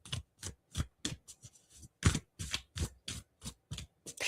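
Tarot-style cards shuffled by hand, a quick series of soft riffles and taps in a steady rhythm, close and quiet with no talking.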